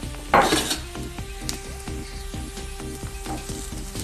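Potatoes and onions sizzling and frying in a pan, with occasional clinks of a utensil stirring against the metal, steady and close.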